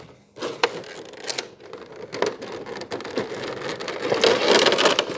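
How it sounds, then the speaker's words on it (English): Packing tape on a model kit box is cut open with a blade, giving brief close scratchy slicing and crackling sounds with light rustling of cardboard in between. "There's a little bit of tape there, so we will cut that"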